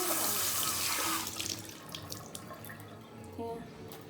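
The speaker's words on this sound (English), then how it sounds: "next we are going to wash our hands" Water from a kitchen tap runs during handwashing before cooking fried rice. It makes a loud hissing rush at first, then drops to a softer, uneven splashing as hands move under the stream.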